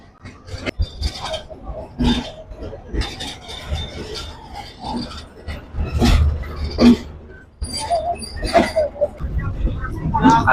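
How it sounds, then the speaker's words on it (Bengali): A Bangladeshi intercity express train on the Dhaka to Chilahati route rumbles and clatters along after pulling out of the airport railway station, heard from inside a carriage with uneven rattles and thumps. Passengers talk over the noise. "হিন্দুসাগর এক্সপ্রেস আটটা বাহান্ন মিনিটে বিমানবন্দর রেলওয়ে স্টেশন থেকে ছেড়ে দিল"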